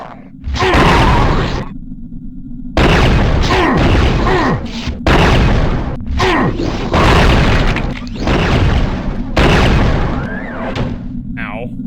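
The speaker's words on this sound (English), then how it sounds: "He's just gonna kind of show up and start shooting at us" Gunfire from a gladiator enemy in Quake II on the N64, heavy booming shots and thuds in repeated loud bursts separated by brief gaps, with a person talking over the action at points.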